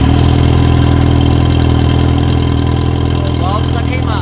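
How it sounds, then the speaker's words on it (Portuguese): Yamaha XJ6 motorcycle engine idling with a loud, steady, close rumble and no break in the sound; brief chirping tones rise near the end. "Liga a moto."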